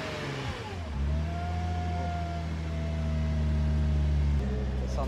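A sports car engine in Japan idles and then revs up, a steady mechanical drone with a rising whine, loud and close, running throughout with no talk over it.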